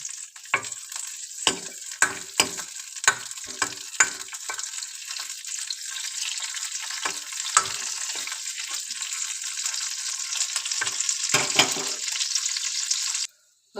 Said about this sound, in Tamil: முந்திரி திராட்சையை வறுத்து கொட்டிக்கலாம்.